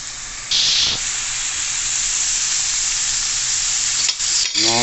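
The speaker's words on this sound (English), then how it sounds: "and then you just stir it around" Ackee and salt fish being stirred in a hot pan, a steady close sizzle and hiss of frying with soft scraping, continuous for several seconds without speech.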